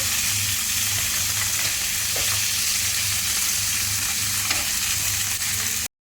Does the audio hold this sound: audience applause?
no